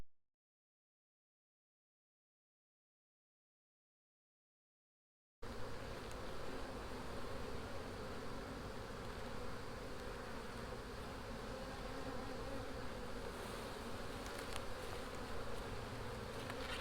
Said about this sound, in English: I'm just gonna shake all the bees off some drawn frames